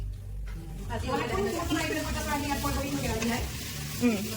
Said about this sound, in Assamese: এতিয়া আলু দি দিছে তেলখিনি যিহেতু গৰম হ'ল